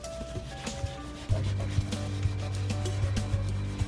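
A wall wiped down with Windex and rubbing alcohol: close, steady rubbing strokes with a low continuous hum underneath and no talk.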